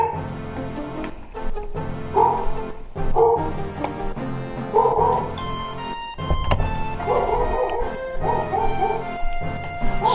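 A dog barks and yips repeatedly in short bursts, fairly close and loud, with whimpering tones between barks and some indoor thumps; no one speaks.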